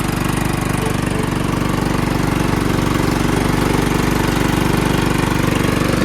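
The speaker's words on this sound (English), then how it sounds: "Riding around another free tractor. John Deere Lt160 with a newly rebuilt" A John Deere LT160 lawn tractor with a rebuilt Kohler Command engine runs loud and steady close by, its rapid, even engine pulse filling the whole stretch with no talk.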